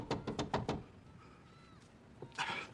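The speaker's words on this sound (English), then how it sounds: "Somebody's at the door, sister." Quick series of about five sharp knocks on a door in a home, followed by a quiet pause and then a brief shuffling thump.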